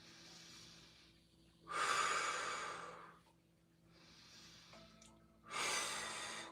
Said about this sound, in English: take your 3 breaths